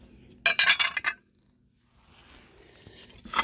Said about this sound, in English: There's the bowl, two plates, and a bigger plate.